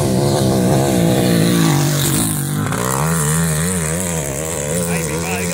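A racing vehicle's engine roars loudly and close, its pitch wavering and climbing as it revs hard through a downhill stretch, with a voice talking over it.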